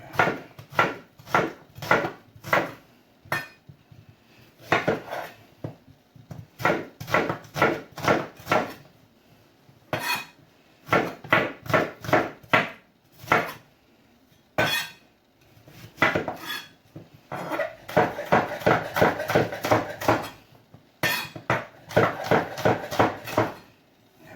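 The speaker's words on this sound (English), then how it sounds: "I'm just going to cut that onions in half and just slice it up" A knife slices an onion on a wooden board in quick, even bursts of crisp knocks, with short pauses between runs of strokes, close and loud in a home kitchen.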